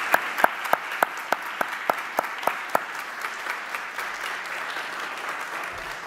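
Audience applause at a concerto competition finals, a small crowd clapping loudly at first with sharp distinct claps standing out, then settling into a softer, steady patter.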